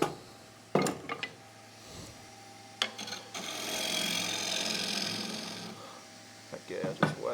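A gouge cutting the inside of a wooden bowl on a spinning lathe, a sustained scraping, rasping cut in the middle with sharp knocks and taps before and after, close and moderately loud.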